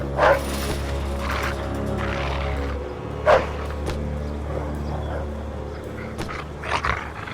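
A dog in the video game Mafia 2 barks in several separate bursts, fairly close, over a steady low background hum, with whimpering sounds between the barks.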